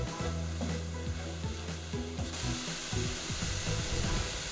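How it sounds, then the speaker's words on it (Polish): Buckwheat with mushrooms and leek being stirred in a frying pan, a steady soft sizzle under repeated scraping and stirring strokes, no speech. "I znowu wszystko wymieszam"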